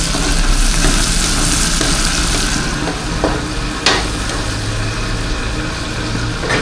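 Pakbet cooking in a cluttered home kitchen, with a steady broad sizzle of frying and stirring, a few sharp clinks of utensil against pan cutting through, no voices.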